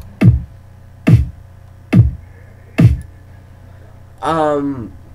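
Four slow, evenly spaced electronic dubstep kick and snare hits land with punchy low thumps, followed by a short wobbling synth tone.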